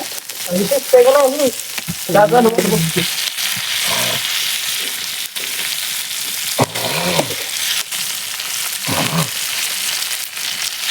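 Fish fries in a pan over a village wood-fired stove, with a steady, loud, close sizzle and crackle throughout. Brief voice-like sounds break in now and then.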